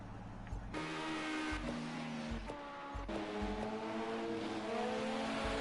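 LMP race car pulling out of the pits at Le Mans, its engine revving in repeated sharp bursts with rising pitch between gear changes, loud and close, followed by a sustained higher-pitched run as it accelerates away.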